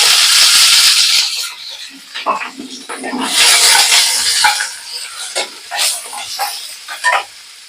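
Curry leaves, dried chillies and onion hit hot oil with a loud, close hiss that bursts at first, then settles into uneven sputtering sizzles and crackles while someone speaks over it.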